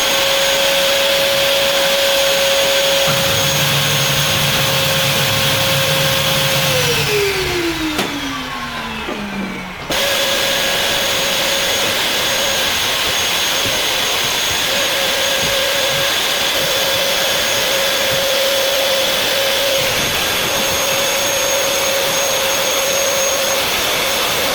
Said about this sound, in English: That is how you use the vacuum cleaner.